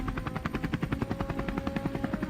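Helicopter rotor chop during an aerial wild boar hunt over open plains, a fast steady pulsing beat filling the whole stretch, loud and close, with rapid repeated gunfire-like bursts blending into the rhythm.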